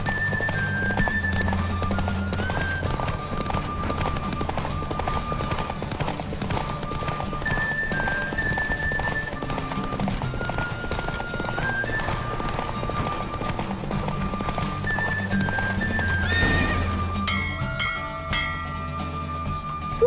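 A horse gallops in a race in The Witcher 3: Wild Hunt, its rapid hoofbeats drumming steadily for the whole stretch beneath game music, with a brief whinny hinted near the end.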